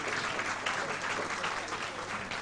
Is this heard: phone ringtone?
no